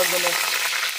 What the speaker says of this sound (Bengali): পিকনিকে ডিম ভাজা হচ্ছে